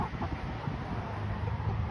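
Backyard chickens cluck softly and steadily in a short stretch, close by, with a constant low background hum and no talking.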